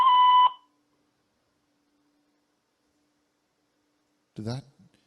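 A short, sharp electronic censor bleep tone opens, followed by silence and a brief burst of a voice near the end.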